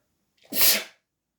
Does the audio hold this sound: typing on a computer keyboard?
no